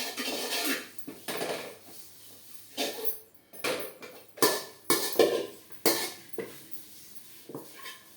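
Curry leaves being sautéed in a pan for milagai thool, heard as a run of sharp metallic scrapes and clinks of a utensil against the pan, irregular and fairly close, with no steady sizzle and no voices.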